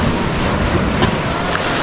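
Sea waves wash steadily around a small wooden outrigger boat, with constant wind buffeting the microphone and no clear talk over the churning water.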